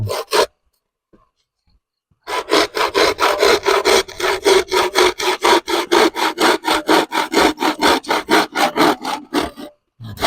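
A hand saw cutting through a length of wood, starting after a short pause and then running as a fast, regular series of rasping back-and-forth strokes, loud and close.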